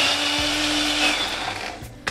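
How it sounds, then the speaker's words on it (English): Blender whirring through mint leaves, three green bullet chilies and water for a tandoori chicken wing marinade, a steady loud motor drone with a constant hum that continues throughout, slightly wavering near the end. "Cover and blend until the mixture is nice and smooth."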